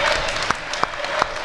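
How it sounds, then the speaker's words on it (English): A small crowd at an indie pro wrestling show in a Windsor, Vermont rec center applauds after a bout, with a fairly quiet spread of claps and a few sharper hits rising above the steady patter. "Folks are applauding Kennedy's moxie."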